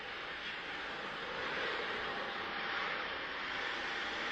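An airplane engine runs with a steady, broad roar that swells slightly midway and holds constant throughout, with no speech.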